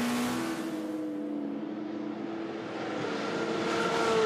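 Rebellion prototype race cars run down the Hunaudières straight at Le Mans during the 24-hour race, a steady high engine whine with a clear rising pitch as the cars pass.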